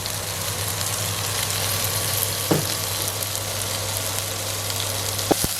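Onions, curry leaves and green chillies fry in a pan for Jaffna-style gram curry, a soft steady sizzle over a low hum, with two brief clinks.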